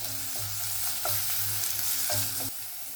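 Ginger garlic paste frying with onions in a pan for a Kerala pearl spot fish dish, a bright sizzle with rhythmic scraping stirs and a low hum underneath, stopping near the end.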